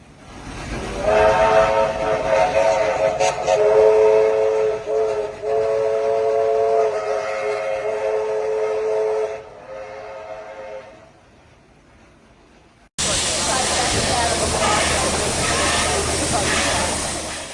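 Several steam locomotives sound a chorus of long whistles, loud and sustained with harmonic tones, overlapping and cutting out, then a burst of broadband steam and rail noise near the end.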